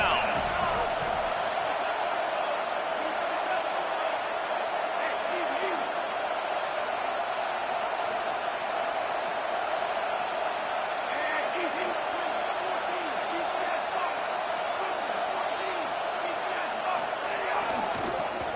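A stadium crowd roars in an NCAA college football video game, UCLA versus Michigan, as a steady, loud wash of massed voices that never lets up, with faint thumps and whoops underneath.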